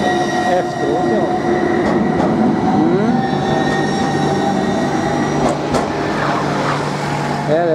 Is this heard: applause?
no